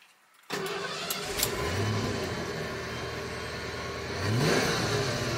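A Ford Mustang 5.0 GT Fox Body convertible engine with 61,000 miles cranks and catches, then settles into a steady idle before revving up once more toward the end, close by and alone.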